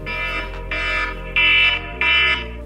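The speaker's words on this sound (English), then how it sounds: "there's my alarm" A shrill electronic alarm beeps in a repeating pattern of four loud, sustained tones with short gaps, sounding close and alone, with no talking over it.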